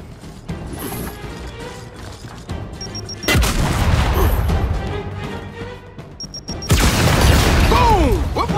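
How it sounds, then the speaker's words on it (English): Two heavy grenade blasts from the Gears 5 video game boom in sequence, each a sudden loud crack followed by a long rumbling tail, with lighter mechanical clicks and ambient game noise between them. "keep your head down and blind toss a grenade"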